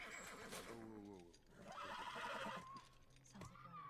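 A horse whinnies in The Last of Us Remastered, a long wavering neigh rising and falling over game ambience and faint hoof clatter, with people talking over it.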